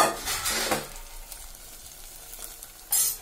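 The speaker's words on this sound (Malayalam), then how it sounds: "നമ്മൾ നേരത്തെ ആക്കി വെച്ച മാഗിയും മുട്ടയും ഉള്ള അത് പാനിലേക്ക് ഒഴിച്ചു കൊടുക്കാം." A Maggi noodle and egg mixture hits a hot pan with a sharp sizzle that flares loudly, then settles into a softer crackle, with a brief louder burst of spatter near the end.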